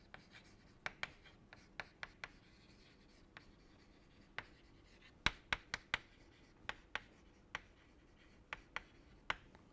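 Handwriting during a lecture, with sharp, scattered pen or chalk strokes and taps at an irregular pace, faint against a quiet room.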